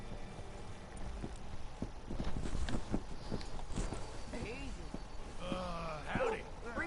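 Horse hooves clip-clop in Red Dead Redemption 2, a steady walking rhythm of soft knocks near the rider, partly under game dialogue and background sounds.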